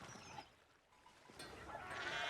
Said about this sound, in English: Damn, that's a lot of sheep.